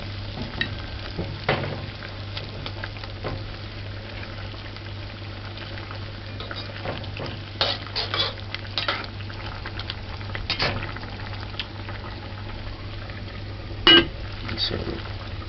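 Chicken pieces frying in a pot after being flipped for a brown stewed fried chicken, a steady low sizzle with occasional scrapes and clinks, and faint voices now and then.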